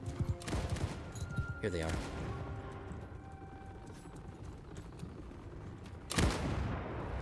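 Booming cannon blasts from a battle in the Bannerlord Shokuho mod, with a few heavy bursts spread across a dense battlefield din, clopping hooves and someone talking over it.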